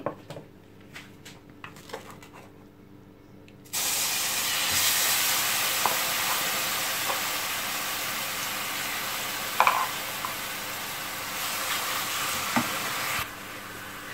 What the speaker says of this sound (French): Je vais mettre l'oignon que j'ai haché.